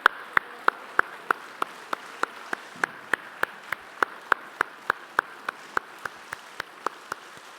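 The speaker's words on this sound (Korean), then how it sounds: "박수하고 축복하겠습니다" A church congregation at a Sunday baptism service claps together in a steady, even rhythm: sharp, evenly spaced claps, moderately loud against a quiet hall.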